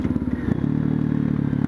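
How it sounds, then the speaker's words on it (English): A 2013 Husqvarna TE511 dirt bike with a full FMF exhaust idles or runs close by, giving a steady, rapid low putter with some mechanical clatter through the short stretch. "It's got the full FMF exhaust,"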